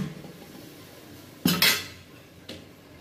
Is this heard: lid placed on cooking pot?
yes